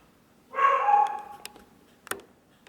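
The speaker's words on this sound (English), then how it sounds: "Sorry, my dog's barking." A dog barks in a loud, drawn-out burst, then gives a couple of short, sharper yaps, close by with quiet between.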